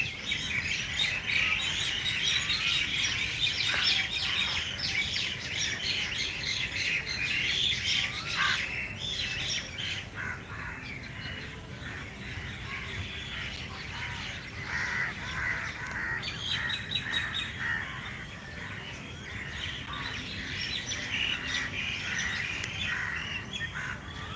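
Sparrows and other birds chirping in the evening, a dense continuous chorus of shrill tweets and squawks from many birds at middle distance, steady throughout with no talk.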